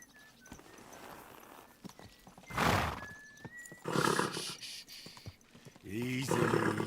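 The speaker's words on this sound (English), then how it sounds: "Easy, good horse." A horse in the video game Kingdom Come: Deliverance 2 gives a loud whinny, followed by clopping hooves and more neighing at close range, over faint background ambience.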